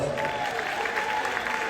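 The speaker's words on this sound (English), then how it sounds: "Let's give Cam a round of applause." An audience at a mayor's State of the City Address gives a brief, steady round of applause for the mayor's grandson. The clapping is a dense, even wash throughout.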